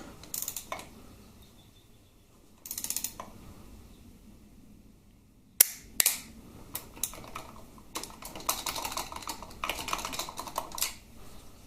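A torque wrench works bolts on a Harley-Davidson Twin Cam 88ci engine, set to 27 newton meters. Bursts of close ratcheting clicks come between pauses, with one sharp, loud snap partway through and no voices.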